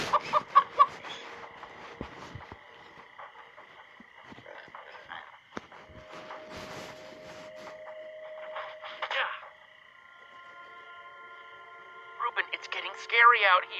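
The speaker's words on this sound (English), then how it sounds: "Chicken." A chicken in the Minecraft Story Mode video game gives several short clucks in scattered bursts. Game tones and a speaking voice run alongside at moderate loudness.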